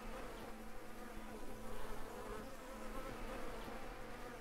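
Bees drone steadily around wooden beehives on a farm in the farming simulation game Farmer's Dynasty, a faint, continuous insect buzz with a low hum beneath, and no voices.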